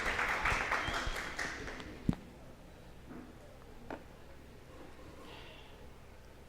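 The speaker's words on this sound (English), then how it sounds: "Please give her a round of applause," Short, thin applause from a small conference audience welcoming a professor, fading within a couple of seconds into quiet room sound with a few stray taps.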